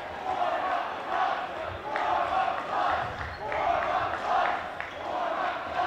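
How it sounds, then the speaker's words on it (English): A high school boys basketball crowd chants in rhythmic waves late in a lopsided game, loud group voices rising and falling in a repeating pattern. "the crowd's starting to warm up the bus chant"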